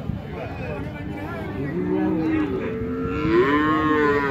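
Cattle low repeatedly at a busy cattle market, drawn-out moos rising and overlapping near and mid-distance over a steady crowd murmur, with a voice talking amid the din.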